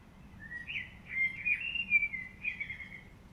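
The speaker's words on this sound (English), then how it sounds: "The bird is really here on the left middle towards the top side." A single bird chirps in a spatial audio recording, giving a few bright whistled calls that rise and fall against a quiet background. No voices are heard.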